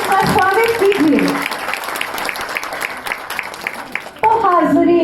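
Audience applause welcoming a guest at a Hindi stage presentation, a steady patter of clapping in a hall that runs between stretches of an amplified host's voice at the start and end.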